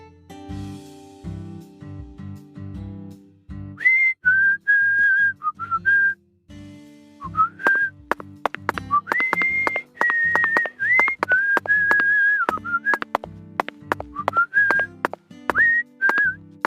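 In the video game Deadly Premonition 2, a whistled melody with sustained, wavering notes and short phrases plays over a plucky, rhythmic backing, clear and prominent throughout.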